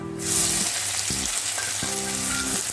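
Onions hit hot oil in a curry pan with a loud, close, continuous sizzle, and a few low tonal clanks from the utensils come through under the frying.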